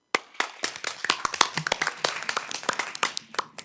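A small audience at a village board meeting claps in sparse, distinct hand claps that build quickly and then scatter, close and moderately loud, with no voices over the clapping.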